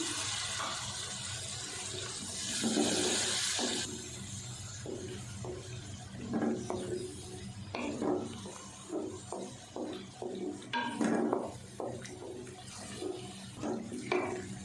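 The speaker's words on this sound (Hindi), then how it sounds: "थोड़ा सा पानी डाल देते हैं।" Water poured into a pan of potato curry with fenugreek and peas, a brief splashing pour followed by bubbling, sizzling and stirring clatters in a home kitchen, fairly close and moderately loud with no talking.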